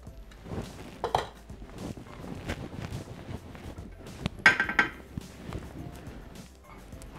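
Spatula scraping food down from a Thermomix TM6 bowl and lid while making pasta e patate: close, irregular scrapes and plastic-metal knocks with a sharper clatter near the middle, fairly quiet.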